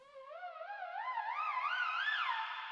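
A synthesized siren made with the Moog Model D iPad app plays alone, a wavering tone that climbs steadily in pitch while wobbling in a fast vibrato for under three seconds.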